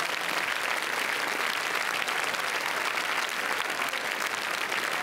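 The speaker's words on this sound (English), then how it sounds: "Derniers applaudissements." A crowd applauds on the red carpet at the Cannes film festival, steady dense clapping from many hands that continues without a break for five seconds.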